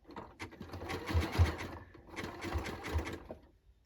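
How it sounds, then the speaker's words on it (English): Sewing machine running a zigzag stitch on a denim jacket, two short quiet bursts of rapid needle clatter with a brief pause between. "I know every machine is different, but it's kind of an average sized zigzag stitch."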